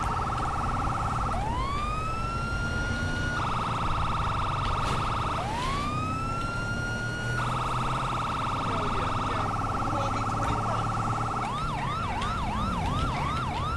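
A police siren in the video game GTA V wails in repeated rising sweeps, then switches to a rapid yelp pattern near the end, loud over a steady engine-like rumble.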